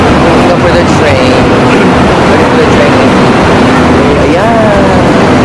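A train rolls through a station in Guangzhou, a loud continuous rumble and rattle with rising and falling tonal whines from the motors, heard close and steady throughout.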